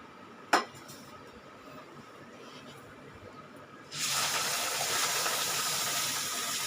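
A milk and water mixture is poured into a hot pan of kesari, starting with a single metallic clink and then, after a quiet stretch, bursting into a loud, sustained sizzling hiss that continues to the end.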